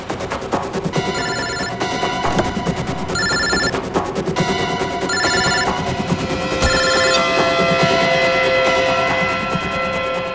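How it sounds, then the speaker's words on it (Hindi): A mobile phone rings inside a taxi, a repeating electronic ringtone in regular bursts, fairly loud and close, over steady background noise and music-like tones. "सर फोन तो गाड़ी में बज रहा है।"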